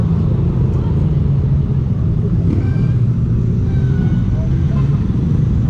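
Motorcycles ride past on a road in Batangas, a steady loud engine rumble with passing drones building and fading, heard alone with no talk over it.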